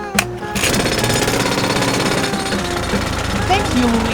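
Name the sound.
drill running in a cartoon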